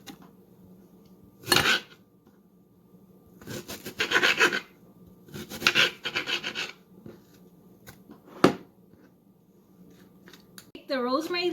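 A knife chops an onion into large dice on a cutting board for a garden salad, giving several separate bursts of rasping, scraping cuts with a sharp knock near the end and a voice briefly speaking.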